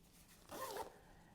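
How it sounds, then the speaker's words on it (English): A zipper on a backpack's mesh pocket is pulled once, a short, quiet rasping zip of about a third of a second against faint room noise. "you have this mesh pocket with a nice zipper pull on it"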